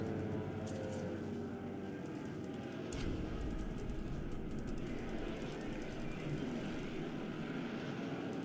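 Aircraft engines droning continuously in a Pacific war strategy game as Japanese Zeros attack Buffalo fighters, a steady loud rumbling hum with a brief low surge partway through and no talking.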